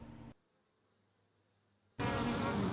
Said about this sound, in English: Here's a clip of my bees taking care of the entrance to their hive.